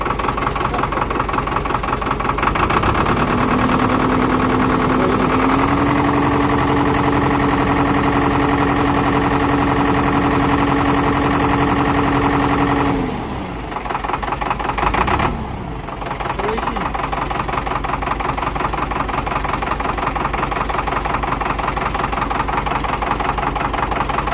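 A Zetor tractor diesel engine, roughly 300 horsepower, runs loudly and steadily with a low idling rumble and a faint whine, cutting briefly near the end before the rumble resumes.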